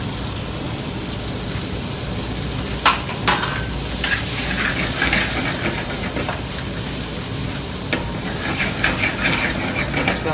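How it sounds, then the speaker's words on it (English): Peppers and chopped sweet onion sweating in a pan with garlic, giving a steady loud sizzle and hiss, with occasional stirring clicks and scrapes throughout. "We're just sweating the peppers and onions."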